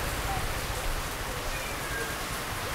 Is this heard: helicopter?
no